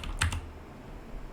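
A drive is named in a Proxmox server setup by typing on a computer keyboard, heard as a few quick close key taps at the start and then a quiet hum.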